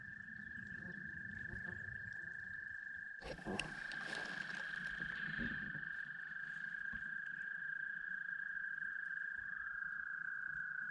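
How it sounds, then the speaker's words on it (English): Frogs croak in a loud, steady mating-season chorus at a Newfoundland lake, with one sustained high trill running throughout and brief splashy bursts partway through. "They're everywhere. There's frogs everywhere."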